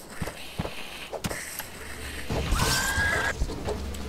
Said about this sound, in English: That thing made like a horse sound.